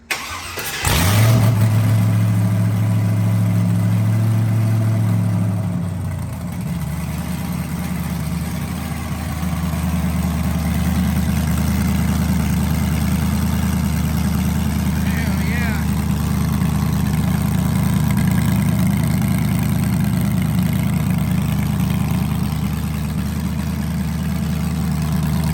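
A car fitted with a new exhaust fires up with a sharp cranking burst, then settles into a loud, deep, rumbling idle that stays steady and close for over twenty seconds, with occasional slight swells in the engine note.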